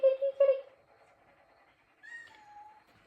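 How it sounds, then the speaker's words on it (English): A house cat meows close by: two short, loud calls, a pause, then a quieter, drawn-out meow that rises and falls. "sorry about her meowing."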